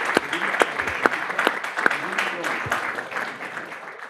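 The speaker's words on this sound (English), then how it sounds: "I want to get a round of applause for our great debaters." An audience at a policy debate claps steadily, a dense patter of many hands that gradually softens toward the end.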